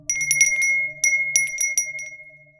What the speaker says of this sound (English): the bell above the door jingled again